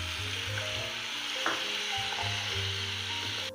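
Chicken sizzles and fries steadily in hot oil as spices and vinegar go in, a close, continuous crackle with light stirring and no talk.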